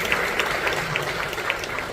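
Audience applause at an older persons' talent and fashion show in a theatre, a brief burst of steady clapping from a crowd, moderately loud and sustained throughout.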